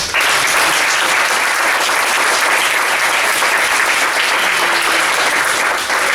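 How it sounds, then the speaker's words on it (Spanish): Loud, dense applause from a lecture audience closing a talk on Japanese ukiyo-e prints, a continuous wash of many hands clapping close by from start to finish. "Bueno, pues un aplauso."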